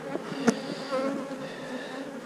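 Bees buzz around a hive colony, a continuous close hum of many insects with one brief louder buzz passing near.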